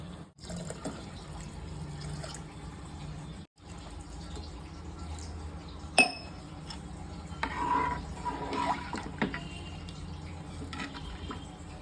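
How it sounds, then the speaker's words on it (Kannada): Water pours into a cooking pot holding salt and homemade ghee for one-pot rasam rice, a soft steady trickle and splash running for several seconds, fairly quiet and close, with a brief clink partway through and no voices. "ಈಗ 3 ಕಪ್ಪು ನೀರನ್ನು ಆ್ಯಡ್ ಮಾಡ್ತಾ ಇದ್ದೀನಿ."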